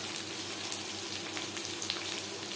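Sliced onions fry in oil over tempered spices and bay leaf, giving a continuous soft hiss of sizzling with faint pops, heard alone and fairly quiet.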